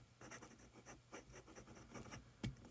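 A fine architect-nib fountain pen scratching across paper in quiet, uneven strokes, with soft bursts of nib friction and a sharper tap near the end, no voices.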